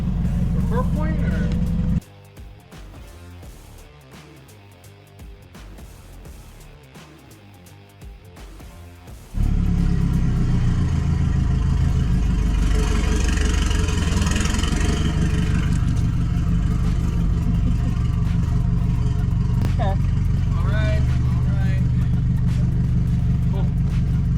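An Audi A4 drift car heading out for its first run at an event, its engine loud and rough, idling and revving, then roaring steadily at close range, with people talking over it.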